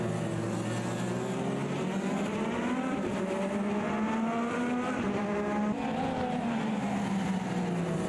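An IndyCar IR18 race car in the Automobilista 2 racing game, its engine note rising and falling steadily and loudly through shifts, with no one talking.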